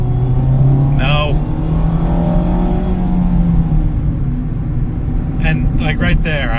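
A Mazda Miata RF in sport mode with traction control off accelerates, its engine revving in a loud, rising drone up close, while a voice speaks over it.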